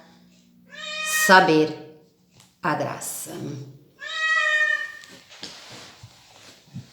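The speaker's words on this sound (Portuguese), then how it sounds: "O gato quer sair, abençoado." A house cat meows repeatedly to be let outside, with three drawn-out, close meows spread across the moment and a person talking in Portuguese around them.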